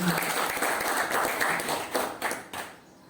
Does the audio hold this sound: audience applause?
yes